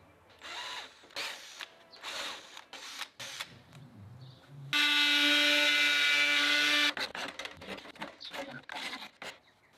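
A power tool cuts circles out of keg can ends for a solar heater, a loud steady whine lasting about two seconds between scattered clatters and handling knocks.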